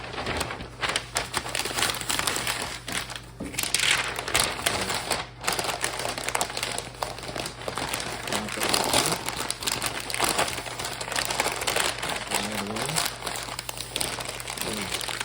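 Foil or wrap being folded and crinkled around a rack of baby back ribs laid meat side down on butter, giving a steady, close run of crisp crackling and crumpling with no talk.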